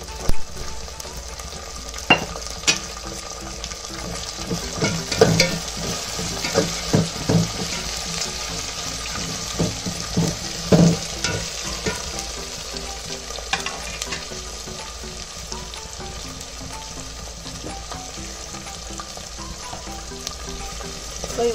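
Fresh green peas fry in a pan while being stirred, a soft steady sizzle broken by scattered scrapes and clatters of a spoon, fairly close, with occasional water-like splashes and no talk.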